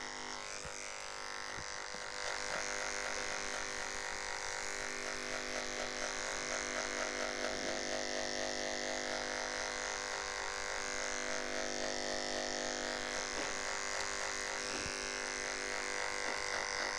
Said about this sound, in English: use an adjustable clipper to take out the fade